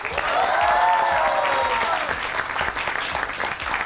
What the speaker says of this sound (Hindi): शाह महमूद कुरैशी भी मुल्तान के लिए तालियां तो बजाएं